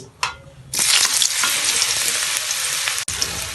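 A sharp clatter, then a loud burst of sizzling as cut potatoes hit hot oil to be part-fried, the frying hiss holding steady until a brief clink near the end.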